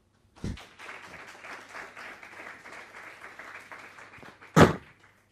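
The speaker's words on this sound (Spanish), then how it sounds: "Un aplauso, ¿no, Raúl?" A modest crowd at a tech conference talk claps in a light, steady round of applause, ending with a sharp thump or knock near the close.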